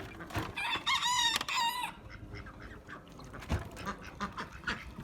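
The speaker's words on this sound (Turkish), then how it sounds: "Ördeklerim." Ducks and chickens call in a poultry coop, with a loud burst of harsh, rapid calls early on followed by scattered softer clucks and quacks from several birds.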